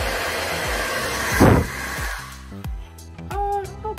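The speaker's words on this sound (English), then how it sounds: "Hairdryer test coming up." Hair dryer in a balcony cabin aboard the P&O Arvia cruise ship, a steady broadband whoosh running throughout with a loud burst partway through, as settings change and muffled voices speak briefly near the end.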